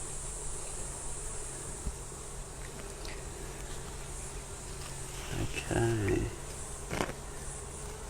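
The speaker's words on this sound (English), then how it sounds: "Here is a drone bee." Honey bees drone steadily around an open hive during a brood inspection, a continuous close buzzing with individual insects flying past; a person speaks briefly partway through.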